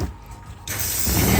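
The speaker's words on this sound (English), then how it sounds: "And I'll spray this cleaner on real good, get it in different areas, get the sprockets." Chain cleaner hisses from an aerosol can onto the chain and sprockets of a Yamaha TW200 dual sport motorcycle set on a wheel roller. A quiet mechanical rattle comes first, then a steady close spray that grows louder.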